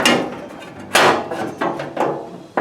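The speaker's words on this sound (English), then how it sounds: "Time for some hammering and shaping." Hammering and shaping replacement sheet metal on the nose of a 1974 Pontiac Grand Am: a series of sharp, close metallic hammer blows at irregular intervals, about five strikes, with quieter ringing and handling noise between them.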